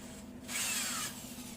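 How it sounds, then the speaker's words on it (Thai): A brief whirring power drill driving screws spins up for about half a second, close by, over a constant low electrical hum, while building an arched doorway in a mud-brick house. "ใช้ตะปูเกลียวครับเจาะไปเลยนะครับ"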